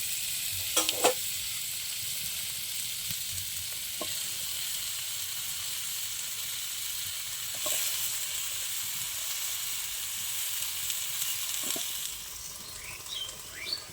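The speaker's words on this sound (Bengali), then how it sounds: "এবার আমি কেটে রাখা শাকগুলো দিয়ে দেবো" Chopped Malabar spinach frying with spices, potato and pumpkin in a wok gives a steady, close sizzle, broken by a few sharp clinks and scrapes of stirring, with no talk.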